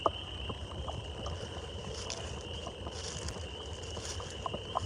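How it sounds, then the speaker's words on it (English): Frogs call at night in the woods, a faint, steady high-pitched chorus carrying on continuously with occasional soft rustles nearby and no talking. "You hear them frogs?"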